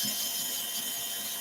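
Power drill boring through sheet material clamped to a board, a steady whirring grind held at an even level for the whole short stretch, close and alone.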